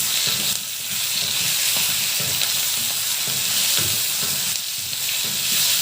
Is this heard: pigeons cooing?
no